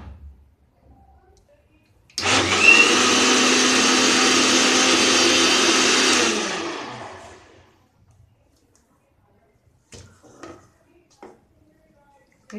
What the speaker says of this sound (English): And now we blend it in blender.